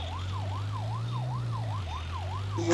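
A police car siren in a video game wails in a steady up-and-down cycle, loud and continuous over a low engine drone, with no talking.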